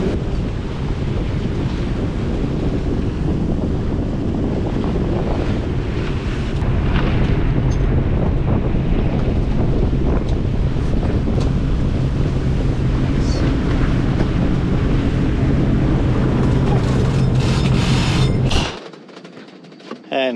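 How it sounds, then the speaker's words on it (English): Steady wind roars across the microphone while choppy standing waves slosh and slap against a sailing boat running dead downwind under mainsail alone, loud and continuous before the noise cuts off abruptly near the end. "So you got this standing, chopping waves that's going on at the moment."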